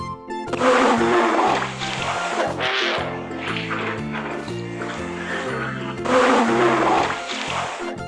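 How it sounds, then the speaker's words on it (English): A polar bear roars in loud, rough, drawn-out bursts, a long bellow followed by shorter grunting calls and then another strong roar near the end, heard close and alone. "And the next we have is a polar bear."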